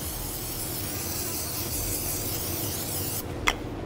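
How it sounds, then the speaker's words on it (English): A continuous hiss of cooking pan spray from an aerosol can, close and steady, ending abruptly with a short click. "We're actually going to use a little bit of pan spray because it's right here."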